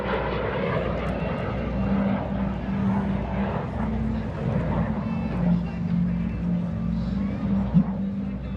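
A T-33 jet flies past at a 2021 Arctic Lightning airshow, a steady broad engine roar with a low droning hum holding for several seconds, fairly loud and continuous, with crowd or announcer voices mixed beneath.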